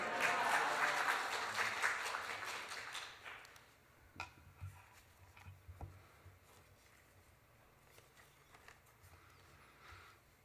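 A church congregation applauding in welcome at an early-morning Holy Week prayer service, a burst of dense clapping that fades after a few seconds into scattered faint claps and room noise.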